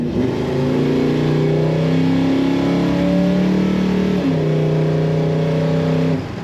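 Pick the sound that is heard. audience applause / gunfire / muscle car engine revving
muscle car engine revving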